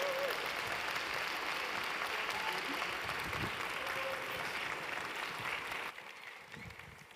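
An audience at an international gastronomy conference applauds as speakers are welcomed to the stage, a steady broad wash of clapping heard from within the hall that thins and drops in level near the end.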